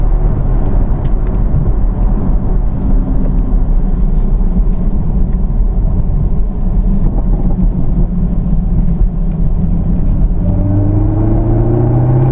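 Chevrolet Camaro ZL1 with a manual gearbox, heard from the cabin as it accelerates: a heavy, steady low engine drone with rising tones toward the end, loud and continuous.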